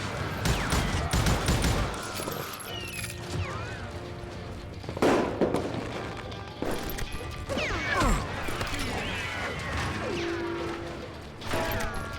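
Gunfire in the western shooter Call of Juarez Gunslinger rings out in a busy saloon scene, with loud sharp cracks and clattering impacts repeating across the stretch, mixed with mechanical clicks and game ambience and a voice briefly heard.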